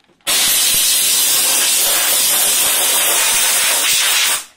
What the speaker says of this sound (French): On vaporise la vapeur à environ 5 cm du jouet.